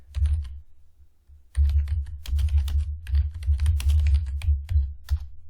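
Rapid typing on a computer keyboard, dense runs of keystroke clicks with a brief pause near the start, close and fairly loud with no talking.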